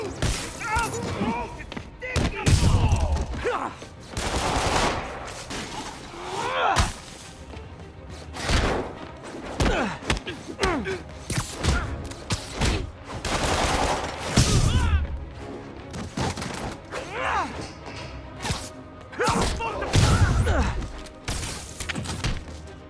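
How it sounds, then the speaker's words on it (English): Bursts of gunfire and heavy thuds erupt repeatedly in the Marvel's Spider-Man video game, mixed with shouting voices and combat impacts in uneven volleys throughout. "Open fire!"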